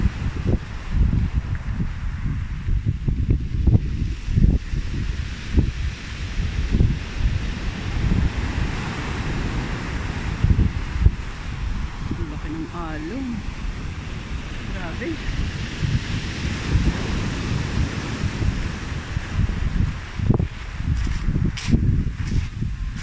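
Big waves roar continuously onto the shore, with heavy wind buffeting the microphone and repeated crashing surges throughout, loud and close.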